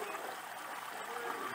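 Water from a PondMax 7200UV pond pressure filter flows out to a waterfall, giving a steady, soft trickling and babbling stream sound with no voices.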